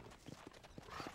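Horse hooves clip-clop in Red Dead Redemption, a quick uneven run of soft thuds at moderate distance, faint and without speech over them.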